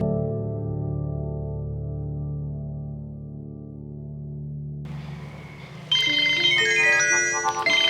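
A phone ringtone plays steadily and fairly loud, its melody shifting to a brighter, busier tune partway through, with no one speaking.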